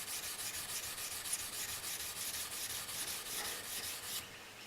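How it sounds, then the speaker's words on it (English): Steel wool rubbed briskly over a metal surface gives a soft, steady scratchy hiss in quick back-and-forth strokes, close and fairly quiet, stopping near the end. "then just follow up some steel wool"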